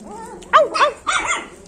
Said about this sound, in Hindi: वो देखो भौंक रहा है